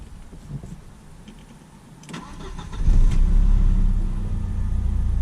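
An Audi A6 with high mileage cranks with a brief whirring starter, catches, and settles into a steady, close idle after some quieter mechanical clicks.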